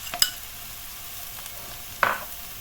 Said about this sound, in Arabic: غادي نخلط المكونات مع بعضياتهم ونخليهم حتى يتشحروا مزيان